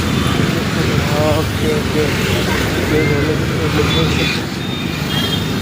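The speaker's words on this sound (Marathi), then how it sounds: "रिक्षा चाललं आहे" An auto rickshaw drives through road traffic, its engine a steady, close rumbling drone mixed with surrounding vehicle noise, while a person talks over it.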